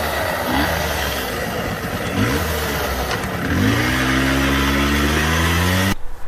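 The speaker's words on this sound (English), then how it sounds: "originally it was a 50cc 2-stroke engine, which I actually got running and riding" A Yamaha V50 50cc two-stroke motorcycle engine runs close by, idling with a buzzy rattle and then revving up in a rising whine that holds steady before cutting off abruptly.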